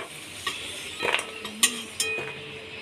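Salted potato slices fry in refined oil in a wok, a steady close sizzle punctuated by a few metallic clinks and scrapes from a utensil.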